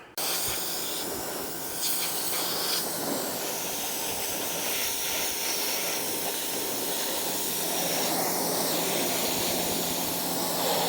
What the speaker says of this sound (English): So let's get this thing power washed real quick.